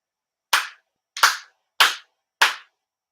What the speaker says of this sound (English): 4 sincere claps